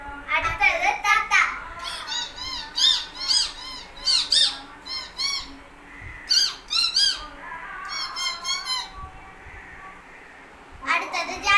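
A performer imitates a parrot with a voice, producing a series of shrill, squawking calls in irregular bursts, loud and close, separated by short gaps.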